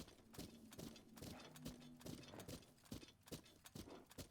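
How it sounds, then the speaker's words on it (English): Horse hooves in The Legend of Zelda: Breath of the Wild, a steady run of quiet clip-clop footfalls on the ground, regularly paced as the horse walks, faint and alone with no talk. "Oh, that's my horse."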